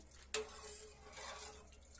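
Amti curry being stirred in a pot after salt is added: one sharp clink of the spoon against the metal, then a soft swishing stir, close and without talking.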